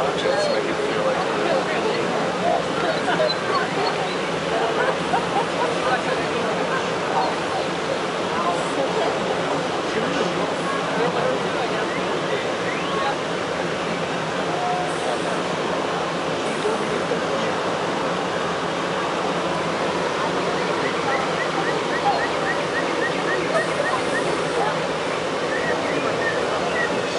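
Steady rushing water from a waterfall splashing continuously beside the Mark Twain Riverboat at Disneyland, a constant broad roar with a voice talking over it.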